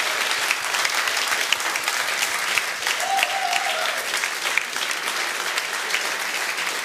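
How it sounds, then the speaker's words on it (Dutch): Steady, dense applause fills a talk show studio audience hall at the close of the evening, continuous and fairly loud with no break. "Oh, geef ze hartelijk applaus."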